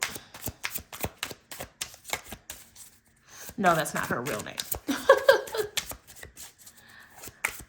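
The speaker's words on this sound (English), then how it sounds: "They shuffle amazingly. I don't have any issues with them sticking" Tarot cards are shuffled in quick rapid riffles and taps close up, with a brief spoken remark mixed in partway through.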